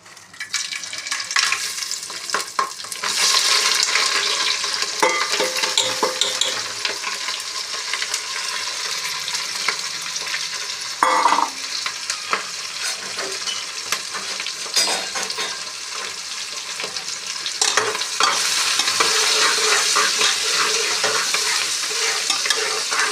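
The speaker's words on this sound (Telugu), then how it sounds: "ఇందులో బిర్యానీ సరుకులు, మసాలా సరుకులు, ఎల్లుల్లిపాయలు, ఉల్లిపాయ, పచ్చిమిరపకాయ వేస్తున్నాను" Biryani spices, garlic, onion and green chillies sizzle steadily in ghee in a pan, with a spoon stirring and scraping now and then, continuous and close, with no talking.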